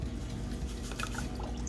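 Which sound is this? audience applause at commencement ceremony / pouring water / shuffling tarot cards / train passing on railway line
pouring water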